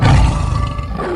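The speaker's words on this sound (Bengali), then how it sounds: "আমি তো ভাবলাম বাঘে ডাকলো বুঝি।" A tiger in the Sundarbans forest lets out a short, deep, loud roar that trails off into a low rumble.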